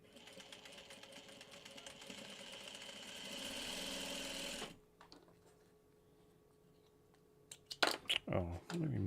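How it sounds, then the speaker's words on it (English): Sewing machine stitching a pair of fabric pieces, a steady mechanical whirr for several seconds that stops abruptly, followed by quiet and then brief handling clatter. "And then I'll sew another pair, making sure that I got the correct fabric on top again."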